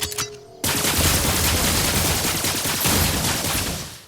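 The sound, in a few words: shooting in Skylanders Imaginators video game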